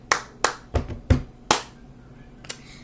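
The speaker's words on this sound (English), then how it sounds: "Then you're gonna clap again. Just clap again, like that." Hand claps for a cup song, six sharp claps alone in an uneven rhythm: two spaced claps, a quicker triple, then two more after longer pauses, fairly soft.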